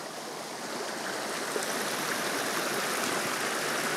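A small mountain stream flows steadily with a broad, even rushing of water, close and continuous, no voices present.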